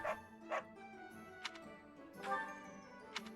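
Dog barks from the video game Fire Emblem: Three Houses, several short yips and bow-wows spaced apart over a soft game background, fairly faint, with no talking.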